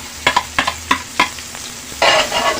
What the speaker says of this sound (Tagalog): Bawang muna boss. Lagyan na natin. Sibuyas at sili mga boss.